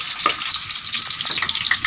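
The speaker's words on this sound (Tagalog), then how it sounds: "ginisa na namin yung bawang at sibuyas" Garlic and onion sauté in a hot pan with a steady, close crackling sizzle and a few scraping stir strokes, loud and alone.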